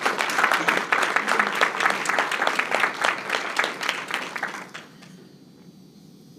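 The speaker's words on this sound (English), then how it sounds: "let's give one more round of applause to the core team" Audience round of applause for the core team at an entrepreneurship group's first anniversary event in the UK, many hands clapping loudly and steadily before fading out abruptly into near-silence near the end.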